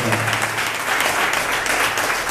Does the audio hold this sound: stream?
no